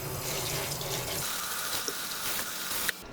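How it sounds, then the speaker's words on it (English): Tap water runs steadily into a sink while a makeup brush is rinsed clean of soap. The stream is continuous and fairly close, with a small splash or knock near the end. "I'm gonna turn on the water again and rinse this out"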